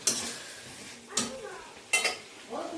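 Pabda fish cooking in a pan in a home kitchen, with a few sharp metallic utensil clatters and scraping strokes over a soft steady sizzle, close and moderately loud.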